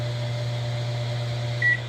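A microwave oven's exhaust fan running at its fastest speed gives a steady, close, even hum with a faint whine and a short high tone near the end.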